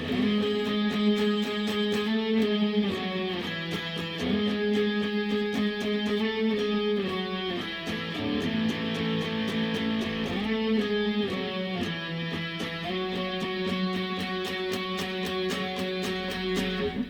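Electric guitar playing sliding octaves on the bridge of a song, a clean run of repeated two-note shapes that glide between positions, steady and close throughout.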